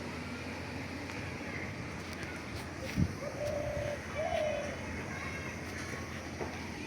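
Two soft, low coos from a dove sound briefly over a steady background rumble, with a faint thump just before them.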